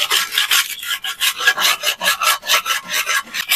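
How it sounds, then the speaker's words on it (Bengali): Rubbing the underside of an item clean to tidy it up gives a close, steady run of rasping strokes, about six each second, repeated evenly with no speech. "এই যে তল দিকটা ঘষে নেবো, একটু পরিষ্কার করে নেবো।"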